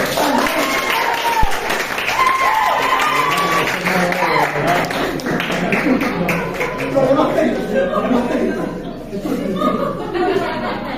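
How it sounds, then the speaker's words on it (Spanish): An audience claps for a guest at a university event, a moderate stretch of applause mixed with chuckles and laughter, while a voice talks over it. "Un aplauso, por favor."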